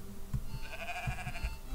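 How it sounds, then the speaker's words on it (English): Sheep bleating in the video game Moirai, a short wavering bleat standing out over low thumping game sounds, fairly close and moderate in level. "I love sheep"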